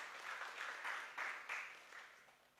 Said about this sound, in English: Clap for our Vice Chancellor.